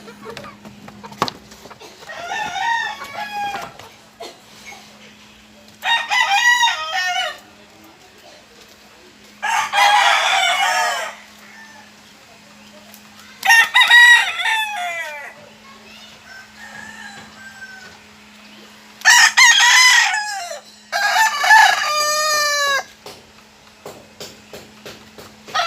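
Repeated loud rooster crows ring out one after another, with softer chicken clucking in the pauses and a faint steady hum underneath.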